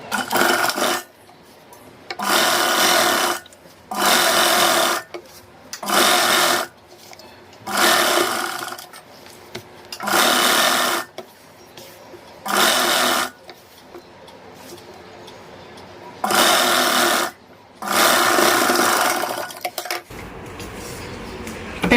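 A sewing machine stitches a readymade kurti in repeated loud close bursts of rapid whirring, separated by short quiet pauses while the fabric is adjusted.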